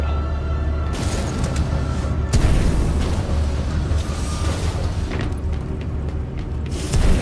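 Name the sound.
gun firing in the video game Titanfall 2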